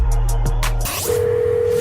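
Telephone dial tone before a radio show call, with brief electronic tones and clicks giving way to a steady, loud, close single pitched tone held to the end.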